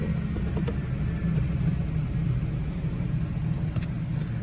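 A 2005 Ford F-150 with the 5.4 Triton engine rumbles steadily while driving, a low, even drone with faint road noise and a couple of light ticks.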